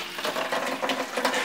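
Water-heavy coolant draining out of a wrecked, totaled car, a steady splashing trickle of liquid pouring onto the ground, close and continuous for a second or two.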